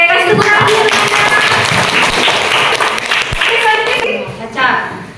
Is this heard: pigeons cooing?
no